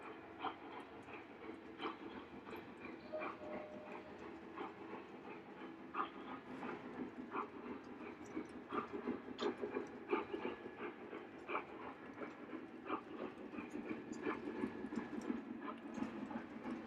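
Model trains running on a layout, giving faint, continuous rumbling with a scatter of light clicks and clacks from wheels on track, heard from a distance at low level.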